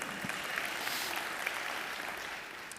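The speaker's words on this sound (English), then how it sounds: "Let's all give her a round of applause." A round of applause from the audience at a software training session, a continuous even patter of many hands clapping that holds steady from start to finish with no talking over it.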